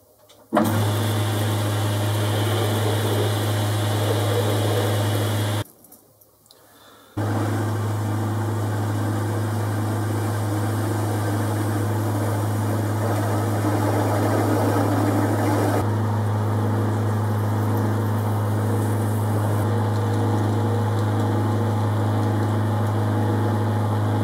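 Steel feed screw part being machined to take the corner off, giving a steady mechanical hum with a strong low drone throughout, broken by a brief pause near six seconds before the machine runs on.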